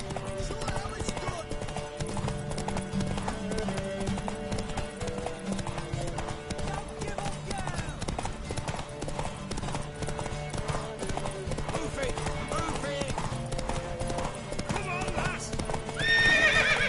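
A horse in The Witcher 3 gallops with a steady clip-clop of hooves, loud and continuous, and whinnies along the way, all over game music and people talking.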